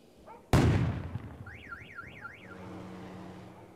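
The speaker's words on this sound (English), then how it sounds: "the moment you hear some of these alarms going off." A sharp bang is followed by car alarms starting up, one wailing in a rising and falling siren pattern, then a steady honking tone, with no talking.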